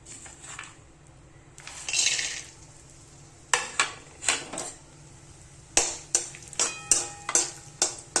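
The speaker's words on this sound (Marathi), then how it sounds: "आता हे ड्रायफ्रूट भाजून घेते तेलात" Dry fruits roast in hot oil, a soft sizzle broken by a rapid run of sharp metallic clicks and scrapes from a spoon stirring against the pan, close and alone.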